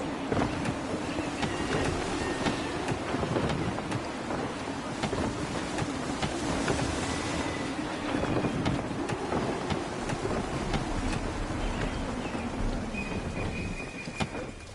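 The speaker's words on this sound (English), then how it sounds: "Gusty winds can be difficult to manage." Gusty wind rushes around a sailing ship in Assassin's Creed III, a steady broadband roar with swells and faint creaks, sustained throughout without speech.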